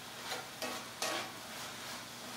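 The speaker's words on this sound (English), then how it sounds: "And then just stir it all together." Vegetables salted with about two teaspoons of salt are stirred together in a pan, giving a few quick scraping strokes over a soft steady sizzle, close and fairly quiet.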